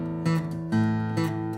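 Guitar boom-chick pattern played with no right-hand muting, bass notes and strummed chords ringing openly and overlapping in a loose, uneven rhythm, close and alone.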